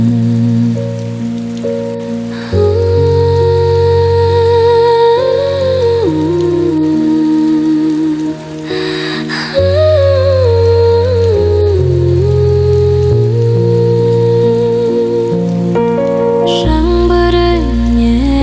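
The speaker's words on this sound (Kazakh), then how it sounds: "жаңбыр үні" Steady rain falls softly beneath a gently sung lullaby with instrumental accompaniment. The rain is a continuous background patter while the melody dominates throughout.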